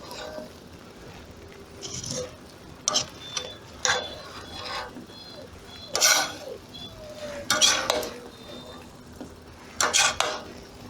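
Plov is stirred in a kazan, with a spoon scraping and clanking against the metal pot in irregular bursts, some louder knocks among softer scrapes over a low background.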